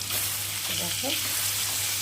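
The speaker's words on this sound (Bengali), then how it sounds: "মাছটা আর ফাটছে ফুটফাট ফুটফাট করে গেছে" Pangas or tengra fish fries in hot oil, giving a steady, close sizzle with light crackle throughout, and a soft voice murmurs faintly in the background.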